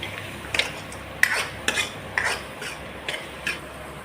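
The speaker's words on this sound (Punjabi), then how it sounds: "ਹੁਣ ਅਸੀਂ ਪਾਵਾਂਗੇ ਮੈਗੀ ਮਸਾਲਾ ਤੜਕੇ ਨੂੰ ਅਸੀਂ ਚੰਗੀ ਤਰ੍ਹਾਂ ਭੁੰਨਾਂਗੇ" Tadka with Maggi masala is roasted in a pan for veg soya keema, a soft sizzle under several close metal clinks and scrapes from a spoon stirring in an uneven rhythm, with no talking.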